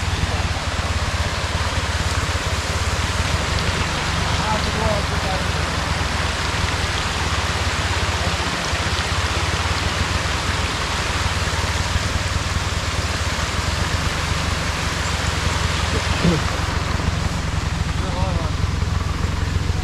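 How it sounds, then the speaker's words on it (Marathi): River water flowing steadily at a village near hills, a loud continuous rushing wash that fills the whole stretch, with a voice faintly audible in places beneath it. "नदीचा आवाज मी बोलतो, पाण्याचा आवाज बघा."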